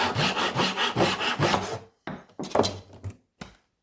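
Temple Tools Little Demon hand saw cutting through wood, a steady run of close, rasping back-and-forth strokes, then a few short separate strokes after a brief pause.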